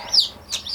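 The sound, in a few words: baby chicks chirping in a brooder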